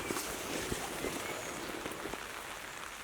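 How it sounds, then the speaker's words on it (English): Light rain falls steadily outdoors, giving a continuous soft hiss with scattered faint drop taps and no voices. "as you can hear, that rain keeps coming through. It's only light"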